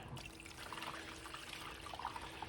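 Water sloshing and trickling over sluice concentrate in a gold pan, a continuous close wash with small splashes and drips, no voices.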